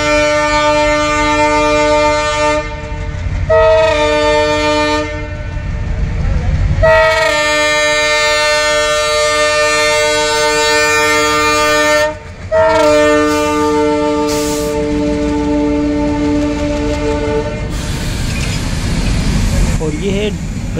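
A diesel WDM-3A locomotive passes close by, sounding long, loud horn blasts again and again over the heavy rumble of its engine.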